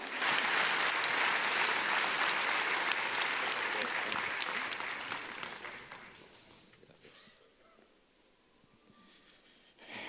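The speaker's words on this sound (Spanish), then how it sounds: "Recibámoslo con un fuerte aplauso" A church congregation claps loudly to welcome a guest preacher to the pulpit, the dense applause fading out over several seconds into near quiet with a few stray claps and faint sounds at the end.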